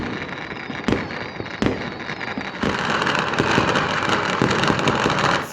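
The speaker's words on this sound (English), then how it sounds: "We finally got fireworks." Chinese New Year fireworks burst outside in sharp, booming cracks, a few spaced bangs followed by a dense, continuous crackling barrage.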